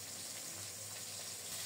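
Small fish pieces fry in mustard oil in a kadai, a soft, even crackling hiss that stays faint and steady throughout with no talk.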